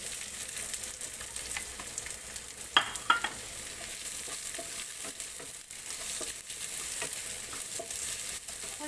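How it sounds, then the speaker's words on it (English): Chopped onion frying in a pan for macaroni pasta gives a steady, quiet sizzle throughout, with a couple of brief scraping knocks from stirring near the start. "Then we put our chopped onion."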